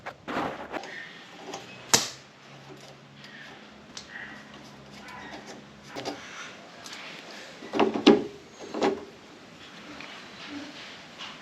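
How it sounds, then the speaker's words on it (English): Small bolts being undone on the door handle of an early 40 series vehicle door during a teardown, heard as scattered light metallic clicks and tool knocks, with a sharper clack near the start and a cluster of knocks later. "now we need to undo these 2 little bolts here"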